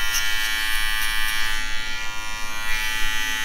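Close, loud electric hair clipper buzzing steadily through a buzz cut, worked with short flicking strokes using minimal blade teeth, the whine wavering slightly as it moves across the head.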